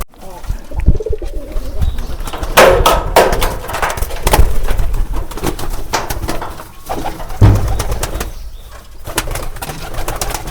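Pigeons coo in low, throaty murmurs close by, with wing flutters and shuffling throughout.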